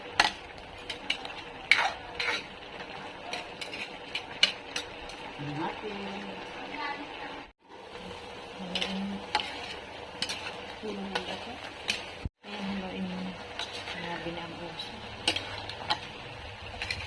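Talangka crab being stirred in a pan while cooking, giving scraping and clinking utensil sounds with a soft sizzle underneath, steady over the whole stretch and broken by two short pauses, with voices talking now and then.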